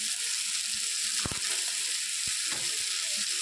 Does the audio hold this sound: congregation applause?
no